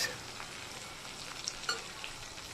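Fish sizzles in a pan while being stirred, a quiet steady frying crackle with a few small pops and scrapes.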